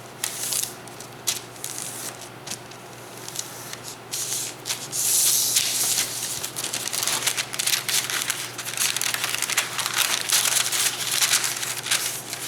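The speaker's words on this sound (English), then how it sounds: "Getting to the end of that roll of parchment, so it's a bit curvy here." Parchment paper rustles and crinkles steadily as it is pressed and folded to line a wooden soap mold, a close, continuous dry scraping with a few louder crumpling bursts and no talk.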